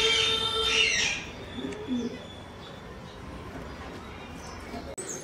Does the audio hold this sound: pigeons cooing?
yes